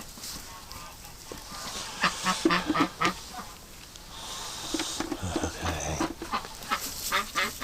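Ducklings and goslings in a low duck egg hatcher, about two feet high, giving a busy run of quacks, honks and peeps, with bursts of loud calls rising and falling close by and a brief word of talk.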